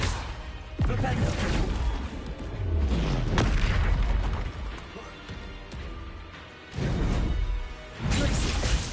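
Spell impacts and magical blasts in the video game Hogwarts Legacy: repeated loud booms and crashing bursts with whooshes, spaced across the clip with short lulls between.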